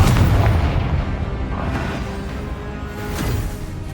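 A Confringo spell in the Hogwarts Legacy video game erupts in a loud, booming blast, its rumble rolling on with a couple of further thumps.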